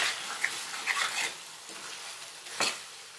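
Chicken pieces fry in a pan over a medium flame, giving a faint sizzle with a few scraping stirs and light clinks of a utensil against the pan, quiet and close without any talk.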